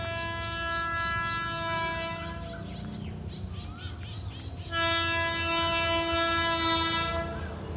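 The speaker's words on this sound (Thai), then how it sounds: "รถเร็วที่ 172 นะครับ วันนี้ทำขบวนโดยฮิตาชิ 4505 ครับ" Hitachi 4505 diesel locomotive hauling express train 172, sounding long loud two-tone horn blasts, one at the start and another after a pause, over a low rumbling engine and rolling wheels nearby.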